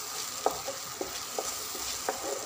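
Halwa made from leftover roti cooks in ghee with a soft, steady sizzle, punctuated by about half a dozen light spoon scrapes and taps against the pan.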